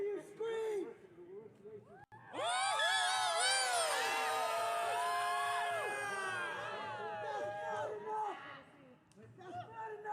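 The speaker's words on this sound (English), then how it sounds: "Let them hear you scream!" A large protest crowd outside the Portland Justice Center erupts in sustained screaming, whooping and cheering, many voices overlapping in a loud wall of sound that swells, holds for several seconds and then tapers, with a speaker's voice before and after.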